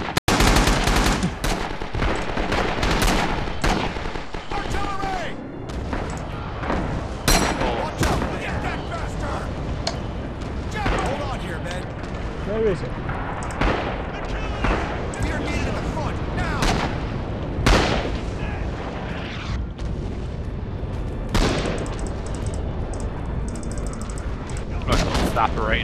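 Artillery and gunfire in the video game Red Orchestra 2 / Rising Storm, loud repeated booms and bursts of shots throughout a long stretch of combat, with voices talking over it.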